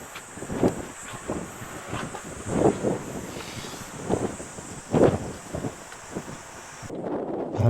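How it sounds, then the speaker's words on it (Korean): Strong wind buffets the microphone at the hilltop site of Jeoksan Beophwawon, the temple of Silla people in Tang China, surging in repeated gusts over a constant roar. "바람 소리가 굉장히 강하죠."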